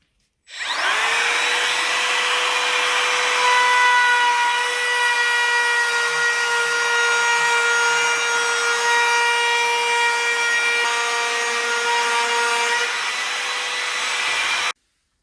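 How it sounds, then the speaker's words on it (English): A router cutting a curved wooden arched face frame rail for custom cabinets gives a loud, sustained high whine with a strong steady tone, running alone for about fourteen seconds before stopping abruptly. "it gives you a place to start the router without touching your dedicated piece first"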